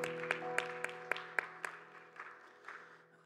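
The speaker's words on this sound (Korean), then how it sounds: "서로를 격려하면서 박수하겠습니다." A church congregation claps in a steady rhythm of sharp, quiet beats during a Korean Sunday young adults' worship service, over a sustained keyboard tone that fades as the clapping trails off.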